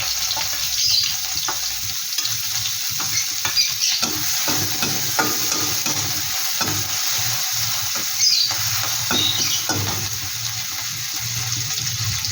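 Ginger garlic paste and green chillies sizzle and fry in a little hot oil, a steady bright crackle with stirring scrapes throughout, close and fairly loud, with no talking.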